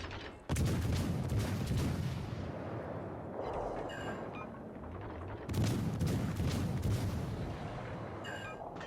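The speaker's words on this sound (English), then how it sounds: "Vanguard taking some blind shots at me" Heavy naval gunfire from an enemy Vanguard warship in a naval battle video game, loud booming salvos rolling with rumble and crackle, two big blasts several seconds apart with lingering echo, no talking.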